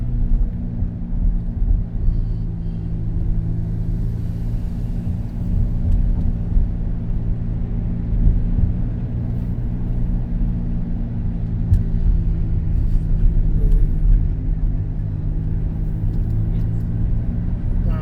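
Highway driving from inside a truck heard as a steady, heavy low rumble of engine and road noise, constant and loud for the whole stretch with no talk.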